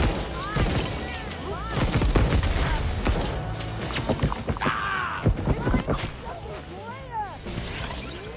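Rapid bursts of gunfire from the video game Deathloop on PS5 crackle in quick volleys, loud and close, with a voice talking over parts of the shooting.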